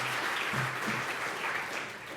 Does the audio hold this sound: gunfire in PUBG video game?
no